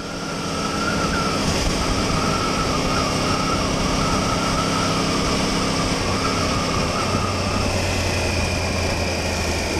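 A liter-class sport motorcycle engine at a motorcycle show holds a loud, steady drone with sustained tonal whine, continuous and close for the whole stretch without breaks.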